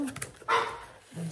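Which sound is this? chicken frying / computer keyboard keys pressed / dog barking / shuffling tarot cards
dog barking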